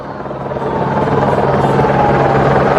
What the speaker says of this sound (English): Helicopter is loud up there